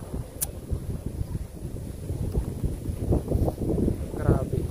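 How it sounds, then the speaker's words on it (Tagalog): Very strong typhoon wind in Rosario during Typhoon Leon buffets the microphone with a continuous low, gusty rumble. A brief sharp sound rises near the start, and faint voices mix in. "Sobrang lakas ng hangin"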